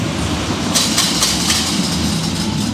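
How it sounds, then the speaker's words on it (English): A roller coaster lift hill chain rattles at Dorney Park amusement park, heard as a steady, loud mechanical clatter with faint rhythmic clicks throughout, set against a dense background of park noise and music. "Between that chain rattling and the music next to me, it's like, whew, a lot."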